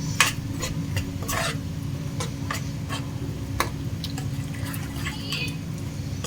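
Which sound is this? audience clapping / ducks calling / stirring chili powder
stirring chili powder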